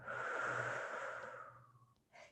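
A slow, soft exhale through the nose during a yoga breathing exercise. It is close and breathy and fades over about two seconds, then a short faint breath follows.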